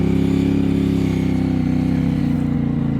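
A CFMOTO 450MT IBEX450 adventure motorcycle engine running steadily on a trail ride, a loud, close, continuous throbbing drone with a deep pulsing rumble.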